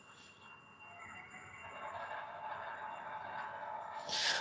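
Model trains start up on a running layout, giving a faint, steady rolling hum with a thin whine and a brief brighter burst near the end, no talk over it.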